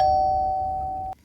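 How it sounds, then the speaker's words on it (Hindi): An indoor electronic doorbell gives a single sustained steady chime, loud and close, that cuts off abruptly after about a second, with no voices. "ये डोरबेल भी ना, इसकी आवाज तो किसी दिन मेरा जान लेके मानेगी"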